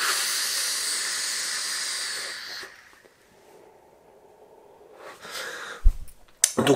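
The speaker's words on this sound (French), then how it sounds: "Donc oui, on fait une belle vapeur" Vapour from a Pioneer RTA atomizer on a box mod running at 0.49 ohms and 35 watts hisses loudly and steadily for several seconds, then fades to quiet before a few shorter breathy hisses and bumps follow.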